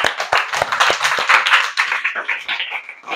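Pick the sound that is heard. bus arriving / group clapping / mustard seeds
group clapping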